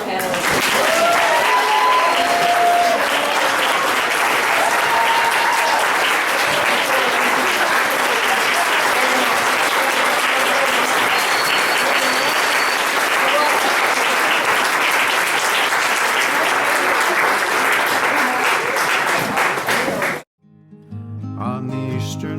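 A large audience at a Nova Scotia history panel event gives the panelists a long, loud, steady round of applause lasting about twenty seconds, then it cuts off abruptly and faint music begins.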